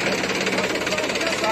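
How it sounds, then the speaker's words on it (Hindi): A Mahindra 265 DI tractor engine runs steadily nearby in a wet field, a loud continuous diesel rumble with a rapid knocking pulse throughout. "भाई 265 डीआई एक और आ गया है ट्रैक्टर,"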